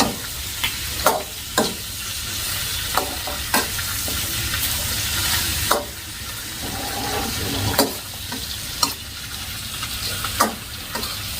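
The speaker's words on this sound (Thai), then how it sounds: "รวนให้มันแห้งๆนะคะ" Chicken stir-fried dry in a pan for salted chicken, sizzling steadily with repeated sharp spatula scrapes and stirring clatters against the pan, close and alone.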